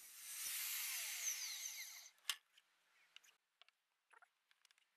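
A miter saw bites through a wooden skirting board in one continuous whining cut for about two seconds, then winds down, followed by a few faint knocks and clicks of the wood being handled.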